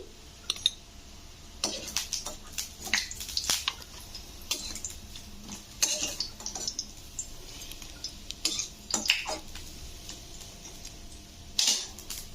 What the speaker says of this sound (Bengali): এগুলো আমি তুলে নেব এবারে